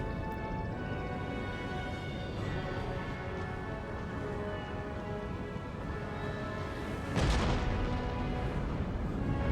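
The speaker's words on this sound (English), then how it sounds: "Hear those cannons fly by, the cannon shots." Cannon fire in a land battle in the game Empire: Total War, heard as a steady dense rumble of distant artillery with a louder boom near the end.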